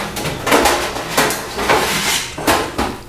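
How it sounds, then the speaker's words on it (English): Metal baking tray and pans clattering in a home kitchen, several sharp knocks and scrapes in an uneven rhythm, close and fairly loud with no talk. "I'm just going to get a tray."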